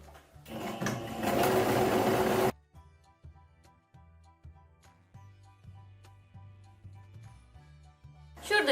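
A domestic sewing machine stitches a straight seam with a long 4.5 mm stitch and no backstitching, a loud rapid mechanical whir for about two seconds, then quiet soft ticks and handling noises until it briefly starts again.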